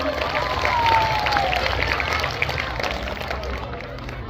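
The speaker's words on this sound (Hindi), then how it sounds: "एक बार जोरदार तालियां बजाओ तो सही" An audience claps and cheers loudly at a school Independence Day performance, a dense, continuous wash of applause and crowd noise that fills the clip at close range.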